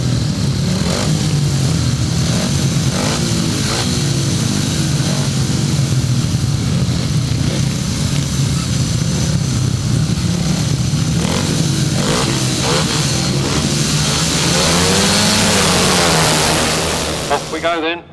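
A pack of grasstrack motorcycles at the 2005 British Masters start a Solo Masters race, engines roaring loudly and continuously, revving up and pulling away until the sound drops off abruptly at the end.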